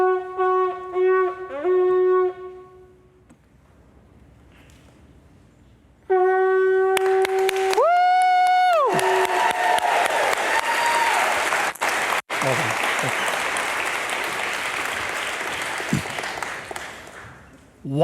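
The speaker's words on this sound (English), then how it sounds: "you're going to clap and cheer, all right?" A church congregation breaks into loud clapping and cheering after someone speaks and a long sustained horn-like blast sounds, the applause continuing steadily to the end.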